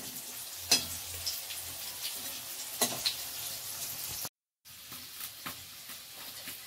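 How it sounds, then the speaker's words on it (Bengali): Steady oil sizzle with occasional sharp pops and stirring clinks as lentil cakes fry until reddish, briefly cutting out before resuming. "ধোকাগুলো লাল লাল করে ভেজে নিয়েছি"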